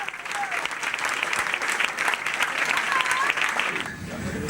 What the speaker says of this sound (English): Tension gave way to spontaneous applause.